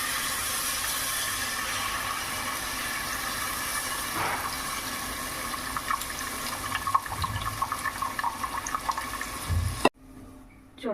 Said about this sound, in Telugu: చింతపండు పులుసు వేసుకున్నాను.